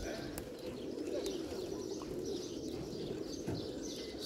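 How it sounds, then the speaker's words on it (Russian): A large flock of hundreds of pigeons coos in a steady, overlapping murmur, with occasional brighter chirps and wing sounds scattered through it. No one speaks. "Первый раз в жизни снимаю такое количество голубей."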